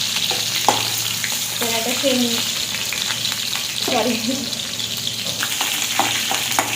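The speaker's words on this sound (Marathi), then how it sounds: "मिरची छान आता तळली गेली आहे" Green chilies fry in peanut oil with a steady broadband sizzle throughout, broken by a few spoon scrapes and stirring clicks, while a voice speaks briefly over the cooking.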